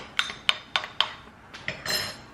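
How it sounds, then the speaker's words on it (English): A spoon clinks repeatedly against a dish while mixing vegan protein, four crisp taps in steady rhythm followed by softer scraping and stirring, close and fairly quiet. "mix this up with a spoon"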